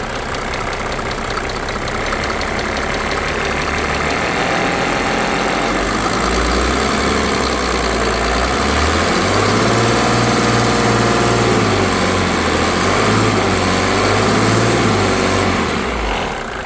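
A 1987 Mercedes 300SDL W126 OM603 diesel engine idles steadily and close by, a low rumbling drone with a faint rise in pitch partway through, no voices.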